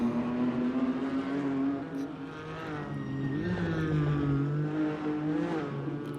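A race car drives on a snow and ice track in an eRoc racing video game, its engine a sustained droning whine that rises and dips with the throttle, continuous and fairly close.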